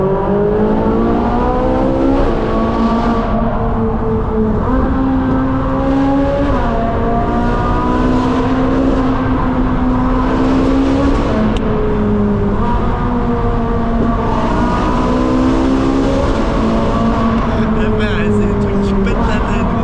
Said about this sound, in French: le bruit de cette voiture est juste magnifique